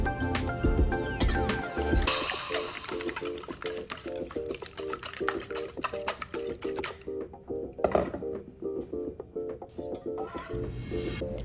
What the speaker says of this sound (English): add the milk and carefully whisk everything together